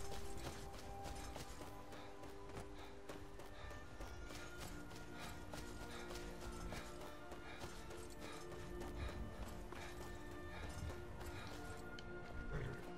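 Horse hoofbeats in Skyrim: Anniversary Edition, a steady running clip-clop under dense game music and ambience, moderately loud and continuous throughout.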